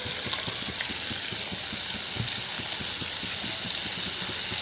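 Mutton going into hot spiced oil in a pan on low gas fills the air with a steady, loud sizzle and crackle, an unbroken frying hiss without talk.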